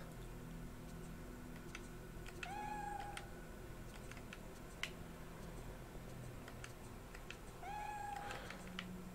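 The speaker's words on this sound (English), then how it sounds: "The cat speaketh." A cat meows twice inside the video game Project Zero 3 (Fatal Frame), each a short rising call a few seconds apart, over a steady ambient game hum with faint ticking.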